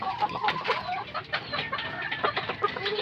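Hens cluck softly at close range, a busy scatter of short, overlapping clucks and chirpy calls from a small flock, fairly quiet and continuous with no talking.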